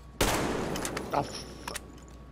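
A single sharp gunshot in the shooter Metro Exodus cracks loudly and close, followed by a few fainter mechanical clicks and a decaying echo.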